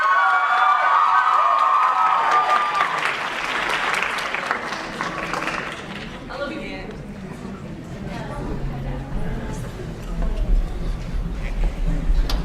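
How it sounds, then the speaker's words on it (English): A loud burst of applause and cheering from the audience at a student poetry slam, tapering off after several seconds as a speaker's voice takes over. "Please give a round of applause for Zainab Al-Hashimi"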